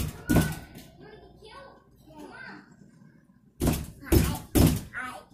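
Heavy fists beating on a door: one loud thump, then three or four hard, close blows in quick succession, with a muffled stretch of voices between them.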